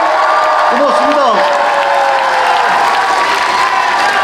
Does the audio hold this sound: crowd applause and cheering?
yes